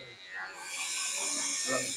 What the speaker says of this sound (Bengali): Zero machine.